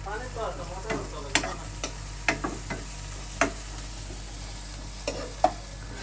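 Garlic frying in a pan, stirred with sharp utensil scrapes and clacks over a steady sizzle, close and moderately loud, with no talking.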